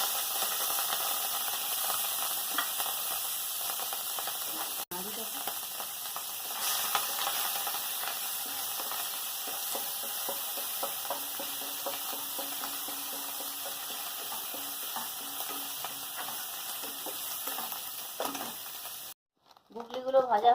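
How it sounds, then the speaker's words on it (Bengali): Freshwater snails fry in hot oil in a wok, a continuous even sizzle with occasional light stirring knocks and a sharp cut-off near the end. "গুগলিগুলো ভেজে নেব, তার জন্য কড়ায় তেল দিয়ে দেবো।"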